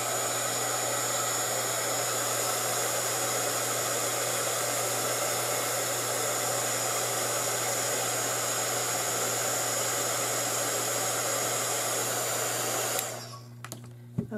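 A hair dryer blows steadily at close range for about thirteen seconds to dry brown paint, a loud continuous whooshing hum that cuts off abruptly near the end.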